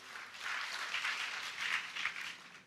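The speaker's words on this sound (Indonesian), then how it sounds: "Berikan tepuk tangan yang meriah." Brief, lively applause from an audience at a church gathering, swelling and easing in a couple of waves over under three seconds, moderately faint and without voices.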